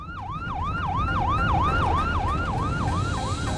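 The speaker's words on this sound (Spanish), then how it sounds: "Al escuchar la sirena" A sheriff's patrol car siren wails loudly and nearby in a fast, repeating up-and-down sweep over a low road rumble, going steadily for several seconds with no voices.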